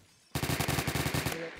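Gunfire in the Roblox game Phantom Forces: one rapid automatic burst of about a second, loud and near, starting abruptly out of quiet.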